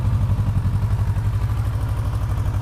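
A 2017 Kawasaki Versys 650 engine idles close by, its low, even putter thumping in a fast, steady rhythm throughout.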